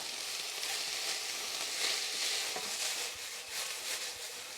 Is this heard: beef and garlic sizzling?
yes